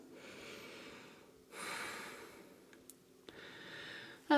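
Slow breathing held in a yoga pose, soft airy inhales and exhales close to the mic, a couple of longer breath cycles with a faint snort-like puff near the end.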